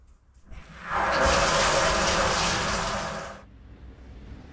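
Water gushes loudly into a tank on an off-grid property, a strong steady rush that starts abruptly, holds for a few seconds, then cuts off, leaving quiet background.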